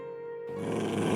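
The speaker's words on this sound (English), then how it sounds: "Yeah, they're growling." A low, rough growl swells in after a brief tonal hum, sustained and rumbling like snarling dire wolves close by in a video game.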